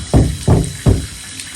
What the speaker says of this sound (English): And then we'll go back under here one more time and rinse it off.